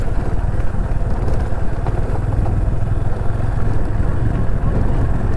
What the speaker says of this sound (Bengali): একটা বাইক বেরোলো মানে বাইকটা বেরোলো আর ধুলো দেখো